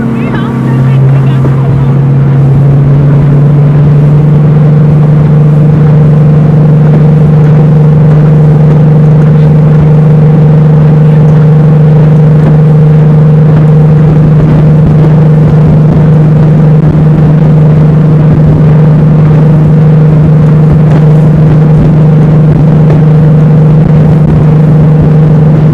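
A speedboat races across Rotterdam harbor at up to 90 km/h, its loud engine droning steadily up close with heavy wind buffeting the microphone throughout.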